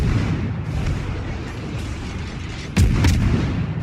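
Warship main guns firing armor-piercing shells in World of Warships, a rumbling low boom of battle noise with a sharp, loud salvo cracking out near the end, no talk.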